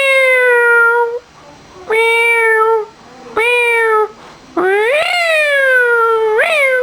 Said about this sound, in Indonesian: Binatang kucing. Suara kucing.